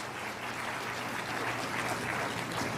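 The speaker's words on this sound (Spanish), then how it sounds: "Yo creo que merece otro aplauso el Señor." A church congregation applauds during a Spanish-language sermon, a moderate, even wash of clapping with a faint low hum underneath, continuous from start to finish.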